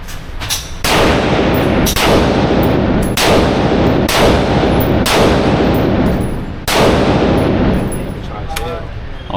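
An AR pistol fires at a shooting range in a steady series of about six or seven loud, close shots, each roughly a second apart with a brief ringing tail between them.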